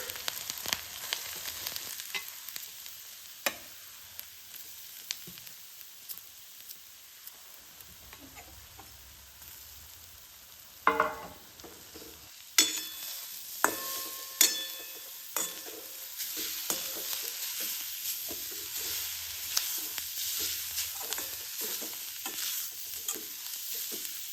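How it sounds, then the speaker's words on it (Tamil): Coconut roasting in ghee, stirred with a spatula: a soft, quiet sizzle with sparse scrapes and a few sharper metallic clinks against the pan, spread unevenly over a long stretch. No talking. "இப்போ நம்ம நெய் ஊற்றி அந்த தேங்காவை வறுத்துக்கலாம்"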